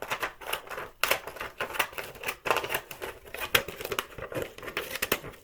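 Scissors cut a strip from a glossy magazine page: close, repeated crisp snips mixed with rustling and crinkling paper, in an uneven rhythm with no talking.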